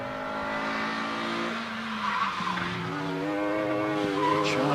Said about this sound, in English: Dylan Flesher in the Caterham heading down towards the S's